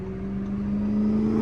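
A McLaren P1 supercar hums steadily close by, its engine drone holding a low, even pitch and swelling slightly louder as it draws past.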